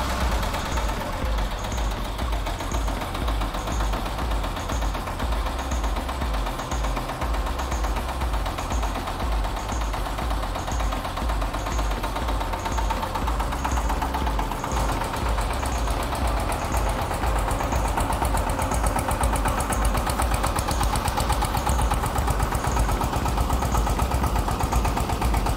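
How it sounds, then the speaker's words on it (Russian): A Rossel XT184D tractor with an 18-horsepower engine runs at a steady idle, its even, loud mechanical thrum and rhythmic knock continuing unbroken throughout, close by and alone with no talk. "Как вы слышите, двигатель работает ровно и уверенно."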